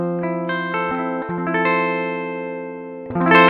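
A Gibson ES-335 on its rear pickup runs straight into a Koch Pedaltone tube preamp with the delay bypassed, ringing out clean sustained notes and chords, close and solo, with a brighter strum at the end.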